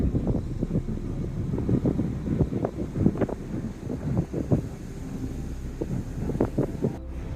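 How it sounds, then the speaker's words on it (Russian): Steady gusts of warm wind buffeting outdoors by the Mississippi River in New Orleans, rumbling and rustling continuously with uneven surges, no voices present. "Ветер теплый, тепло тут хорошо."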